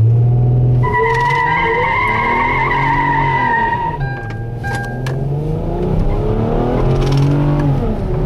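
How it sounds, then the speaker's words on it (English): A 2010 Kia Sedona minivan does a burnout, its engine revving hard while the tyres skid and squeal loudly and continuously, with pitch swells as the revs rise and fall, close by. "Now let's see what we can do when we get that started and nail the e-brake, and see if we can do a legitimate burnout"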